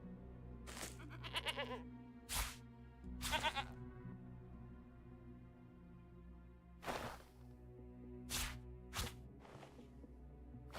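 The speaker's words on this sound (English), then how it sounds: "you see what appears to be a sheep, not a ram, a sheep off in the distance." A sheep bleats, a tabletop-game sound effect heard as a series of short, wavering cries spread over several seconds, sitting over a steady low background drone.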